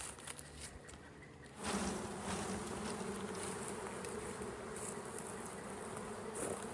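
Honey bees, mostly nurse bees on a drone brood frame, hum in a dense, continuous buzz close at hand, jumping louder after a quieter opening and holding steady to the end.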